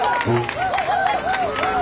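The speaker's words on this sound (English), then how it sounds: "let's have a big round of applause for all our contestants at the Z-Burger Independence Burger Eating Championship" Outdoor crowd at a burger eating championship applauding the contestants, with clapping and light cheers under a voice speaking over a loudspeaker.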